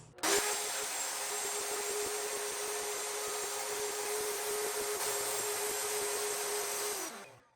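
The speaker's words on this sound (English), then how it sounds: "attach my router and feed it up through the bottom while it's running" A running router with its bit cutting up through the top of a table saw gives a steady, fairly loud whine with a constant tonal hum, holding for about seven seconds before winding down.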